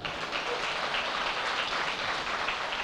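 Dense, continuous clapping from a conference audience at an HR summit keynote, rippling evenly from start to finish with no voices over it.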